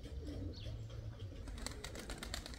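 Pigeons cooing in low, soft repeated murmurs close by, with some bird chirps and rustling above a steady background hum.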